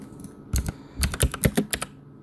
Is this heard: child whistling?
no